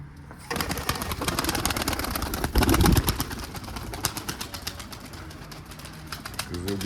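Bursts of wing flapping from pigeons clatter nearby, with a heavier whoosh midway, while people talk over the fluttering.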